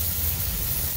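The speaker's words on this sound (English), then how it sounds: "So hopefully we get a little sizzle when I drop this in there." Blackfin tuna dropped into a hot oiled pan sizzles with a loud, steady broadband hiss, continuous and close for about a second with no talking.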